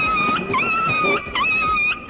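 A dog whimpers after being caught in a door, crying in drawn-out high wavering whines repeated in three close bursts, loud and near with no speech.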